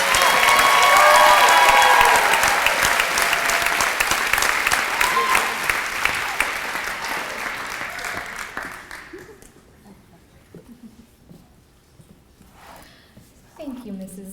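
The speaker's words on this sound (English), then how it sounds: "Let's give a huge round of applause to our latest Pride of Peoria recipients." An audience at an awards ceremony breaks into loud, sustained applause that fades out after about nine seconds, followed by quiet murmuring and a few faint voices.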